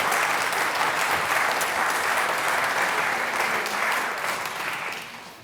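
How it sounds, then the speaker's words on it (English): An audience at a community awards ceremony gives a sustained, loud round of applause, dense clapping holding steady for several seconds before tapering off. "Another round of applause for them."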